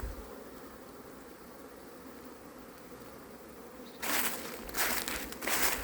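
Honeybees at an apiary hum softly at first, then a louder burst of buzzing and crackly movement swells near the end.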